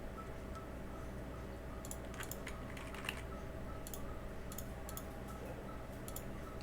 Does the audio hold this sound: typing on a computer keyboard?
yes